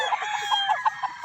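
A gamefowl on a game farm, an Asil rooster, gives short close clucking calls in quick irregular bursts, fairly faint and alone without talk.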